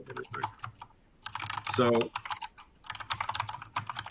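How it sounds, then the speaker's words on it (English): Rapid clatter of computer keyboard typing comes through an online call in bursts, with a short pause and a denser flurry, while a person speaks briefly over it. "your keyboard typing is coming through the chat there"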